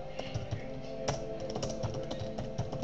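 Quick irregular keystrokes clattering on a computer keyboard, close and fairly quiet, a steady run of taps with no voice over them.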